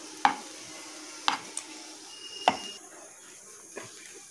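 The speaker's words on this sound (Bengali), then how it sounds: "এইভাবে আমরা নাড়তে থাকবো, আরও একটু এটা নাড়তে হবে।" Semolina pulao being stirred in a pan: a few sharp spatula scrapes and knocks spaced about a second apart, close by, over a quiet background.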